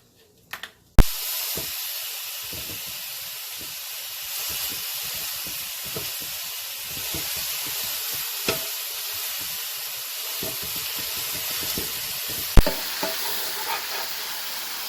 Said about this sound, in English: my hamburger meat is getting cooked